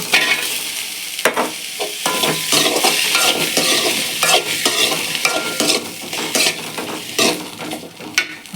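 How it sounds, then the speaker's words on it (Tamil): Tomato is sautéed in a pan for a country chicken (nattu kozhi) gravy: repeated close scraping and clattering of a spatula over a steady sizzle. "நல்லா வதக்கிக்கலாம்ப்பா"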